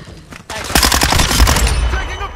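Rapid automatic gunfire in Call of Duty Modern Warfare 2, a loud close burst of dense overlapping shots after a brief quieter lead-in.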